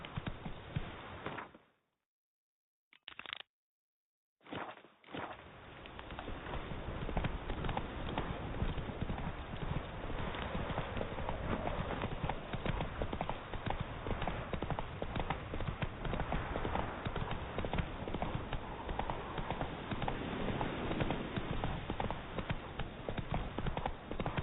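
Galloping horse hooves in The Witcher 3, a fast steady clip-clop rhythm that runs continuously after a brief gap near the start, loud and close without speech.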